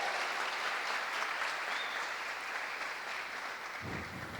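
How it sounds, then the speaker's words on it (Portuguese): A church congregation claps in sustained, even applause that fills the room, moderately loud and continuous throughout, with a low thump near the end. "Uma salva de palmas para essas pessoas."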